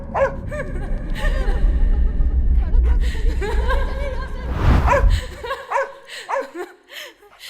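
A small pet dog yaps in quick repeated barks, close and loud, mixed with people talking and laughing, then the barking continues alone more sparsely at the end.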